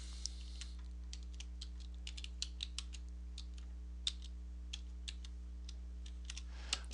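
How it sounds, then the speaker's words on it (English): Someone types a password on a computer keyboard, producing sparse, light key clicks at an irregular pace. The clicks sit over a steady low electrical hum in a quiet room. "okay, so I retyped my password"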